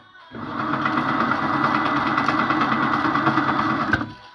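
An electric motor drives a coil winder while a coil is rewound during repair of a Gallagher Power Plus S20 unit. After a short pause, a steady whirring hum runs close and continuously for about four seconds, then cuts off.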